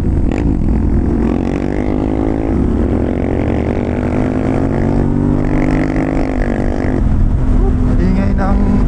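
A motorcycle's loud exhaust drones continuously while riding a mountain trail near the Sierra Madre in Nueva Ecija, with the engine pitch rising and falling and steady rushing noise underneath.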